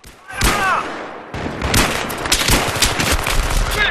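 Gunfire in Battlefield 3 on the Grand Bazaar map during a 10v10 match: dense, loud bursts of automatic fire and crackling shots, mostly continuous after a short pause.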